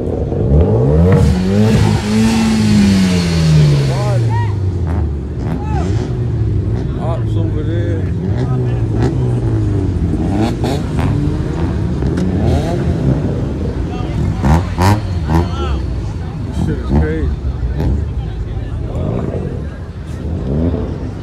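An Audi A5 with its muffler deleted revs loudly at a car meet, the engine climbing and falling through several throttle blips, with voices chatting close by throughout.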